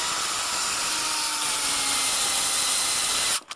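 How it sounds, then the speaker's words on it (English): An electric screwdriver drives a 3-inch screw into a door lock with a loud, close whine that rises slightly in pitch, then stops abruptly, leaving a brief clatter. "run them back in with a screwdriver. Electric screwdriver is best to make the job easier."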